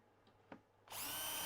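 A power drill fitted with a 2.5 mm bit, used for screw holes in woodworking, gives a couple of faint clicks and then spins up abruptly into a loud, steady high whine.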